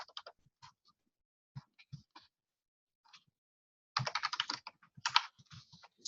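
Typing on a computer keyboard in short scattered bursts of clicks, then a faster run of keystrokes near the end, close and clear in an otherwise quiet room.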